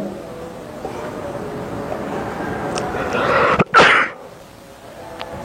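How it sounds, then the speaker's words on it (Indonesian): A single sharp, explosive burst like a sneeze or cough rings out close by against a quiet, rumbling background. "terganggu dengan batuk"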